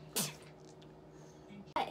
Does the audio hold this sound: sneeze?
yes